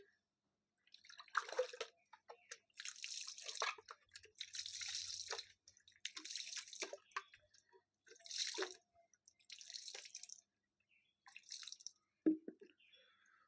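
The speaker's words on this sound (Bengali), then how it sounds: "আমরা সাবন দিয়ে এভাবে 2 হাতের কবজি আমরা ভালো করে ধুয়ে নেব" Hands and wrists are washed with soap and water, making soft wet splashing and rubbing bursts in short, repeated rounds, quiet and close, with faint drips between them.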